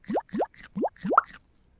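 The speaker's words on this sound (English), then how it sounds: "So it has that popping sound whenever the fish grows bigger." Five quick rising plops play one after another from a Godot 4.5 desktop pet fish game each time the fish grows bigger, short bubbly pops in an even rhythm, clear and alone without talk.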